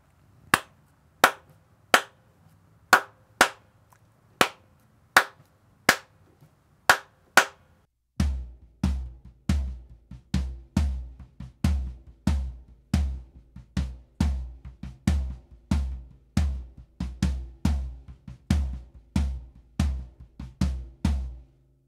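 Church-style drum groove with accents moving between floor tom and rack tom and the kick on every quarter note; crisp, evenly spaced hits at first, then a fuller, steady pattern with heavy low thumps, played alone and up close.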